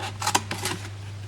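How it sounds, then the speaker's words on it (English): Scissors snip through scored card while a gift box is being made, a couple of quick close crisp cuts over a low steady hum. "just cut that off, that end bit off"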